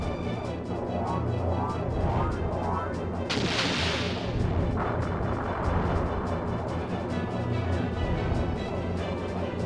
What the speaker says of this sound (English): our secondaries are now, cannons are now so powerful that they're basically taken over as our main damage source